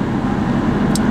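A car drives along a road, heard from inside as a steady, loud low rumble of engine and tyre noise with no breaks, and no talking over it.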